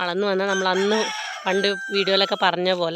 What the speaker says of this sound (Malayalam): കോഴി ഇപ്പോഴാണ് കൂവുന്നത് കേട്ടോ ഞങ്ങളുടെ വീട്ടിലിപ്പോൾ